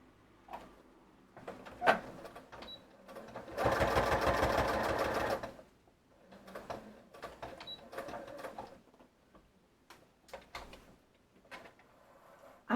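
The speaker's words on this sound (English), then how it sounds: "I just want to put a little bit of stitching, just a little." Sewing machine stitching a paper junk journal card: a short solid burst of rapid mechanical needle chatter lasting a couple of seconds, framed by clicks, handling and paper rustles before and after.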